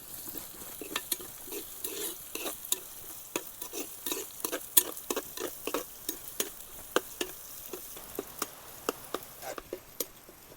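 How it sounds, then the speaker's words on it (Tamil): A handful of curry leaves crackles in hot oil, with repeated sharp pops and snaps over a steady sizzle and no voices. "கருவேப்பிலை ஒரு கை போட்டேன்."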